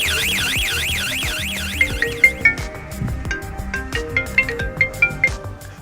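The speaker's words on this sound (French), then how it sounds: "Alarme totale activée. Alarme activée." A VoIP telemonitoring alarm system warbles up and down continuously, then gives way to repeated rising chirps and beeps over a background of music, with a voice announcing the alarm is activated.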